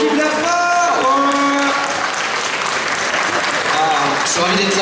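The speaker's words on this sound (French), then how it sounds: "On applaudit la fort." Steady applause from a convention crowd welcoming a panel guest, with voices calling out and speaking over the clapping throughout.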